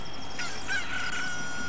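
A rooster crows in The Legend of Zelda: Ocarina of Time, a single drawn-out, clear cock-a-doodle-doo over a steady game background hum, fairly close and loud.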